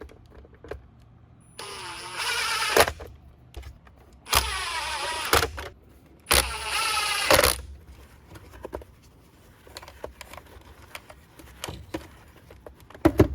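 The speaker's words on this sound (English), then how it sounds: "Let's press on with the motor and blowing all that crap out." Shark Zero M vacuum motor blowing air out through the power nozzle, heard as three loud whooshing bursts of a couple of seconds each, separated by clicks and handling knocks.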